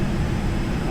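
Airplane engines in a flight simulator game, a steady, loud broadband drone with a low rumble that holds evenly throughout, with no voice over it.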